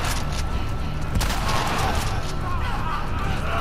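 Shotgun fire in the video game The Last of Us Part II, a dense burst of loud gunfire against continuous game noise, with a sharp blast about a second in and more shots and clatter following.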